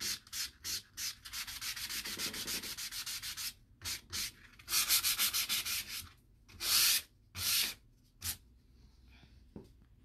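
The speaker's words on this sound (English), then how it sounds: "I'm going to see if I can sand it out real quick." Sandpaper rubs in short, repeated strokes over a small scratch on a painted wooden vanity, close and fairly quiet, with brief pauses between bursts.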